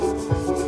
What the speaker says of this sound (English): So all this video is going to be is me sanding